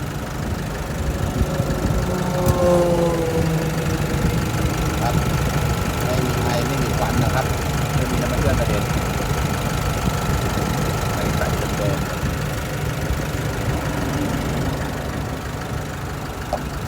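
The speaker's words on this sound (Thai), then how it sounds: "เครื่องนิ่มๆแห้งๆเลยนะครับ" An Isuzu D-Max 1.9 Ddi diesel pickup from 2016 runs steadily at idle with a low, even rumble that stays constant throughout, while people talk over it.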